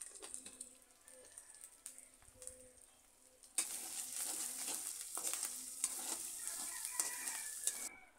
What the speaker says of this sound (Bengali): আবার আমি কিছুক্ষণ মশলাগুলো ভেজে নেব।